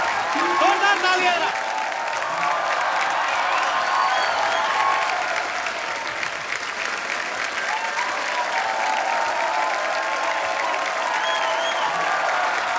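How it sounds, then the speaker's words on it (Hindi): Sustained, dense applause and cheering from a studio audience at a Hindi comedy talk show as a veteran film star arrives, loud and continuous throughout, with a host's voice briefly heard at the start. "जोरदार तालियां।"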